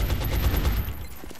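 Gunfire in the video game Xeno Hunters: a loud, rapid burst of repeated shots lasting about a second, then a brief fading tail.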